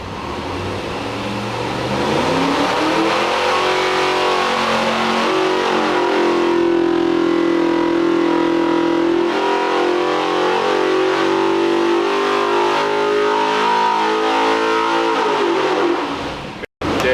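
An LS1 V8 on a dyno makes a loud, sustained pull. The engine note climbs steadily in pitch toward about 7,200 RPM, holds near the top, then drops off with a sudden cut at the end.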